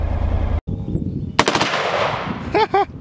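Bursts of rapid AR rifle fire ring out up close, sharp cracks in quick succession with short gaps between volleys.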